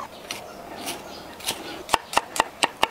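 Kitchen knife chopping ginger into small pieces on a cutting board, soft scattered cuts at first, then a quick run of six sharp, close knocks.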